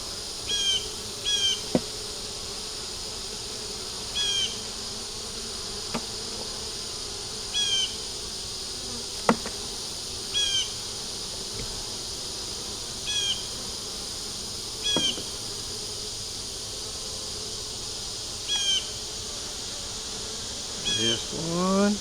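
Honey bees buzz around an open brood box during a hive inspection, a constant droning hum with scattered brief clicks and knocks from handling the frames, and no voices.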